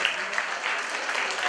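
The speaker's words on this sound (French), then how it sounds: "je demande d'applaudir très fort" An audience at a school excellence day ceremony claps steadily, a moderate spatter of applause with no one speaking over it.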